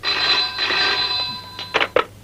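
A phone rings, a steady electronic tone held for about a second and a half, then two short louder bursts, in a quiet room with no talking.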